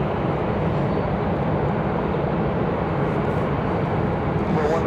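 An Alaska Airlines jet, bound for Seattle, takes off from runway 5 Left at Raleigh-Durham International Airport, its engines a steady, loud broadband roar holding for the full stretch with no talk over it.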